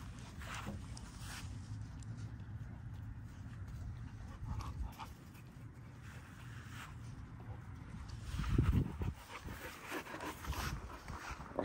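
Dogs are heard nearby in an outdoor setting, with panting, whimpering and a brief louder burst of sound partway through over a steady background hum.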